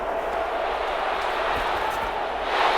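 Stadium crowd noise at a Madden 21 Super Bowl game between the Browns and Packers, a steady, dense roar that swells slightly near the end as fans get into a big third down.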